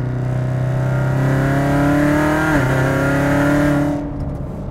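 A 650 hp Corvette Z06 accelerates hard on a track, its engine note loud, steady and rising under load with a brief dip midway before easing off near the end; no talk.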